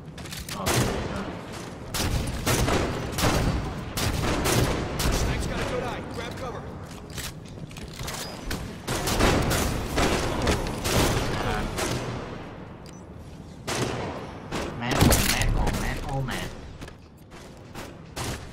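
Sniper rifle gunfire in a video game, sharp shots and mechanical clacks scattered through a dense, busy mix of game noise and overlapping voices, close and fairly loud.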